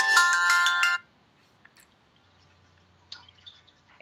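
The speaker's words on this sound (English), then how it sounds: "No, that was my alarm." A phone alarm rings loudly with a bright repeating tone for about a second, then cuts off, leaving near silence with a few faint clicks and small rustles.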